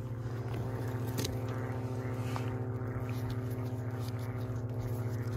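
An airplane drones overhead during outdoor mushroom foraging, a continuous low engine hum that holds steady throughout, with no voices.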